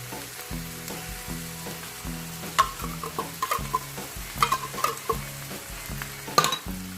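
Korean corn cheese mixture with mayonnaise and thick cream being stirred in a hot pan, sizzling steadily with a rhythmic series of scrapes and clinks as the spoon moves.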